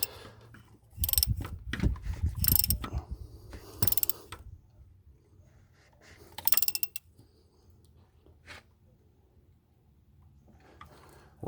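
A ratchet wrench clicks in quick bursts while tightening a fitting on a lifted truck, close and fairly crisp, with short pauses between the bursts of ratcheting.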